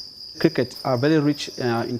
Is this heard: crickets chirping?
yes